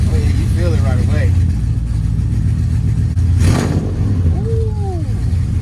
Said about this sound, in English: There's no flex from the engine, it's just straight rev.